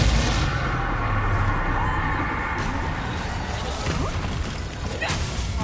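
Spell blasts and crashing impacts from a duel in a wizarding video game, the exploding Bombarda curse among them, thick layered booms and whooshes over a constant roar of game music and effects, fairly loud throughout.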